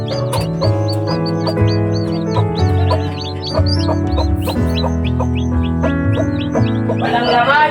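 Newly hatched chicks peep in high, rapid chirps throughout alongside a hen's low clucking, a busy close-up barnyard chorus with no pauses.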